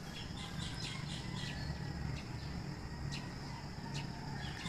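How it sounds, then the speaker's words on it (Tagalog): Birds chirping and calling in the early morning before sunrise, with chickens among them; sharp repeated chirps stand out over a steady, dense chorus of background calls. "Tingnan natin yung mga ibon. Yun, nag-iingayan na."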